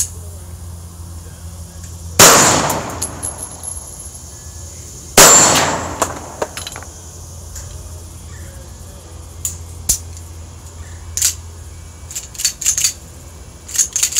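Girsan 1911 pistol fired with rounds from an ACT magazine, two sharp loud shots a few seconds apart, each with a ringing tail, followed by faint clicks and handling noises and talk.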